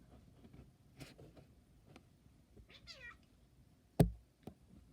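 A cat gives a short rising meow amid quiet room noise, followed by a sharp knock and a softer thump.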